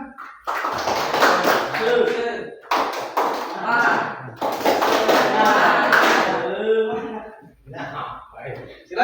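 A classroom group does rhythmic spirit clapping, with dense bursts of many hands clapping in patterned phrases separated by short pauses, fairly close and loud, alongside voices.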